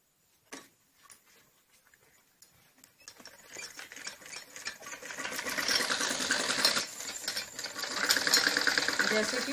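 A sewing machine stitches salwar panels together, starting with a few slow, sparse needle clicks before building into a fast, continuous rattling run that grows louder and denser toward the end.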